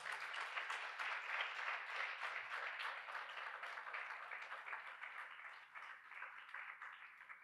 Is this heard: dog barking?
no